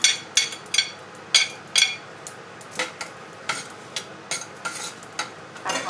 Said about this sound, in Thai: หอมแดงไปผัดให้หอมก่อน